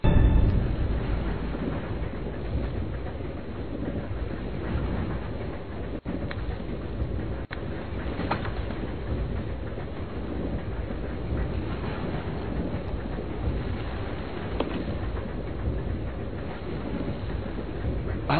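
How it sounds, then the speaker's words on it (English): Runaway train in the Resident Evil 0 video game on GameCube, a loud, continuous rumble of wheels and carriages with faint clickety-clack, steady throughout with no talk. "Train will either derail or crash. I gotta stop this thing."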